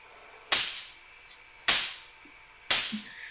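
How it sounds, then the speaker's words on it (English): Three sharp, loud snapping cracks from a Van de Graaff generator's discharge, spaced about a second apart, each decaying quickly against a faint background hiss. "The crackling sound you hear is also due to corona discharge."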